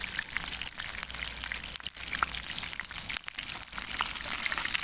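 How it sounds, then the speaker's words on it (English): Steady rain begins to patter and hiss outdoors around a grill during a fish cookout, a dense broadband wash with scattered drop ticks, moderately loud and continuous, with no talking. "Starting to rain as well."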